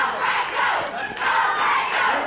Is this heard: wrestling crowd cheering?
yes